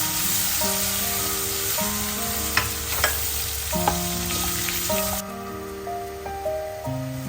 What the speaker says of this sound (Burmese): ရွှေရောင်တန်းလာတဲ့အထိဆွေးထွေးလေးဖြစ်လာတဲ့အထိကြော်ပေးပါမယ်